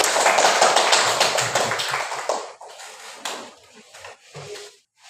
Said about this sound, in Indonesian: Jangan kita tepuk tangan.